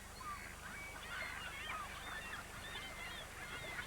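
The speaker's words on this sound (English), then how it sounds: "the lesser snow geese start moving south from their breeding grounds in the tundra around Hudson Bay" A flock of lesser snow geese honks constantly at a staging lake on their southward migration from the Hudson Bay tundra, many overlapping calls at moderate distance over low background rumble, with no talking.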